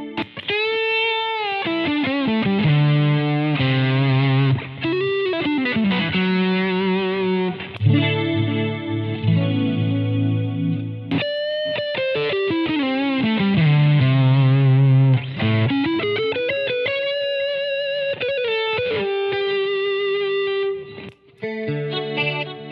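Electric guitar runs through a pedalboard with Strymon, Ethos, Bogner and Fuzz Face pedals, playing sustained, heavily effected notes and chords with overdrive and chorus-like shimmer, loud and continuous, with no voices.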